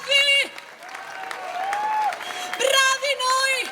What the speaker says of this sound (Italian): Fatevi un applauso che sia tutto vostro.